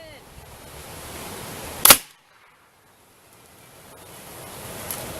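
A homemade potato cannon fires once with a sharp, loud bang close by, followed by a moment of near silence and then faint outdoor air noise.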